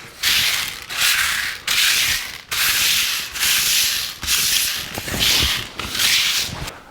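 Blasting media with loose nuts and bolts being spread out and pushed across a tray, a rhythmic gritty scraping and rattling in repeated strokes with short pauses between, close and fairly loud.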